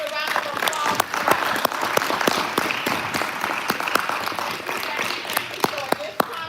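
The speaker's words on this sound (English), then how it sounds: "Let's give a round of applause." An audience applauds at a live talk event, with sustained clapping and sharp individual claps standing out throughout.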